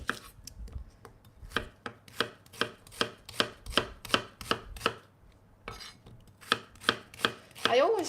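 A knife slices an onion on a cutting board, making a steady series of crisp, evenly spaced chopping strokes close up, with a brief pause midway before the cutting resumes.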